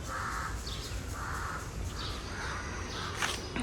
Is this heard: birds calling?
yes